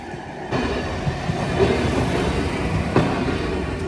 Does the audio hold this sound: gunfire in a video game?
no